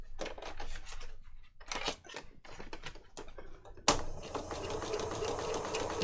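Sewing machine stitching around the edge of a boho-style file folder journal panel, running in short bursts of stitching separated by pauses, then a steadier, louder continuous run near the end.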